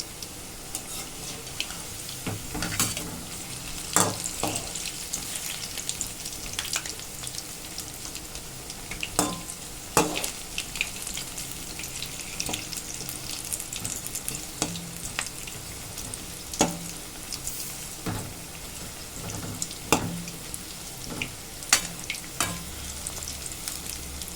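Cauliflower 65 deep-frying in hot oil, a steady dense crackle and sizzle throughout with occasional sharper pops and clinks of a utensil, no speech.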